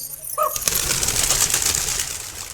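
Pigeons on a rooftop loft: a short throaty coo, then a loud, close flurry of flapping wings that fills the rest of the moment before easing off.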